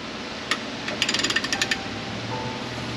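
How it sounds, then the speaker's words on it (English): Ratchet on an extension turning a nut on a GM engine top end, a quick run of sharp clicking ratchet strokes, close and clear. "So now what I need to do is get my ratchet onto the extension."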